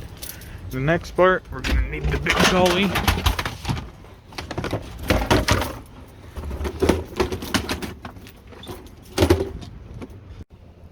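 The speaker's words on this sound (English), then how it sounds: "we tested out all the keys, they all work. We're gonna put them on a ring" A locksmith's bunch of keys jangles and clinks on a ring in loud, close bursts, repeated throughout while someone talks over it.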